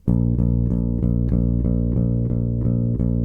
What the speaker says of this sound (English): play your eighth notes completely sustaining